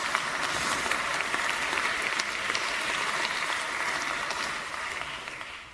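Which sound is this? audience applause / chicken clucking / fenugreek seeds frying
audience applause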